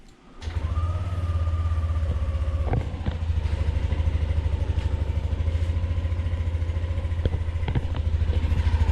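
A Yamaha Nmax V2.0 scooter starts and settles into a steady, close idle with a low even thrum and faint mechanical clatter.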